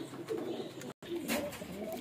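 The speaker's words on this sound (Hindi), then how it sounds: "लीजिए दोस्तों, ये कबूतर हैं सारे।" Fancy male pigeons coo softly in a short, low, murmuring burst with a brief dropout midway, heard close by over quiet background.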